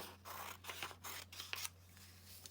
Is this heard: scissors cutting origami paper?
yes